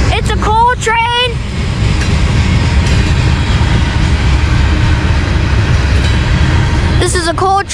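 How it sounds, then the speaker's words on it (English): A CSX coal train led by locomotive 537, a YN2, rolls past Saint Denis station in Halethorpe, Maryland, with a loud, steady rumble of wagons. A horn sounds near the start and again near the end. "CSX 537 in the lead. And it's a YN2. It's a YN2, you guys. It's a coal train."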